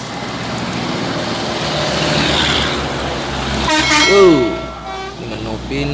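A Bintang Utara intercity bus draws near through road traffic, sounding a loud, drawn-out horn toot that rises over a steady roar of engines and passing vehicles, with a voice speaking nearby.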